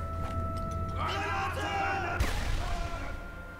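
A grenade blast in the video game Sniper Elite V2, a sudden sharp boom midway through a busy battle mix with shouting and voices, followed by a decaying rumble.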